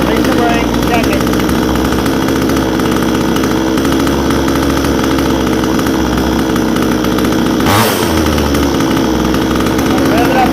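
A Vevor 62cc gas chainsaw running close by at a steady buzzing idle with a continuous high engine drone, a brief clunk partway through, and someone talking over it.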